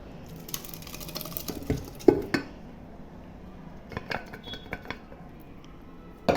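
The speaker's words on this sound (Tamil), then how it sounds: "இப்போ நம்ம இதை சட்டியில் போட்டுடலாம்" Cooked dal is tipped into a pan with a few clattering knocks and scrapes of a utensil against the metal, sparse and close, with quiet gaps between the hits.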